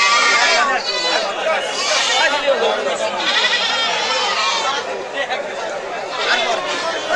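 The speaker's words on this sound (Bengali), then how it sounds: "সম্পূর্ণ দেশে জাতের ছাগল" Native-breed goats bleating at a busy livestock market, their wavering cries rising over constant crowd chatter and nearby talking.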